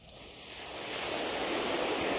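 Ocean waves wash in a steady, soft roar of surf that swells gradually louder and stays continuous, with no voices.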